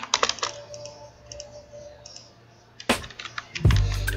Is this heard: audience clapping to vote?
no